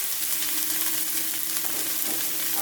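Chicken pot pie filling frying in a pan, a dense, even sizzle that holds steady and close throughout with no voices.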